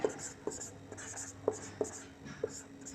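Marker or chalk scratching across a board during a maths lesson on triangles, several short strokes in an uneven rhythm, close and clear with a faint hum beneath.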